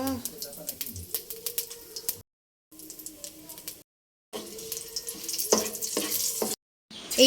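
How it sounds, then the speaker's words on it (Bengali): Whole cumin, dried chili and bay leaves crackle and sizzle in hot oil with scattered sharp pops and scraping, broken by brief silent gaps, a voice speaking at times. "তেলটা গরম হয়ে গেছে গোটা জিরে শুকনো লঙ্কা তেজপাতা দিয়ে ভেজে নেব"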